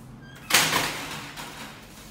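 A door at an apartment entrance in Singapore is pushed shut with one solid knock, followed by a short fading rattle and room noise.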